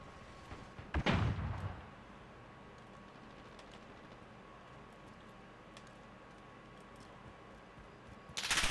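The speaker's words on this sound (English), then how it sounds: "Yeah, I see gunfire." Gunfire in the video game Call of Duty: Modern Warfare, a loud burst of shots near the start and another at the end, with quiet game ambience in between.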